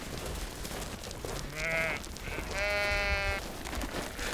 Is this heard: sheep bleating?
yes